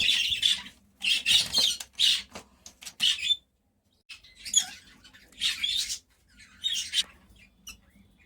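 A male and female pair of pet birds give harsh, raspy squawks in repeated bursts, close by, with a short silent gap partway through.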